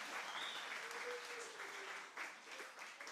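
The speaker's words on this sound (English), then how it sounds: "let us give them a round of applause" Soft, steady applause for children reading in a national reading competition, rather faint and even throughout, with a faint voice faintly present at moments.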